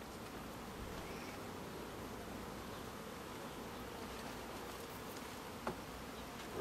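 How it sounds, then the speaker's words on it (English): Honeybees hum and buzz around the entrance of a backyard beehive as foragers return with pollen, a faint, steady, many-layered drone with no talking. "you can see the bees coming in with pollen"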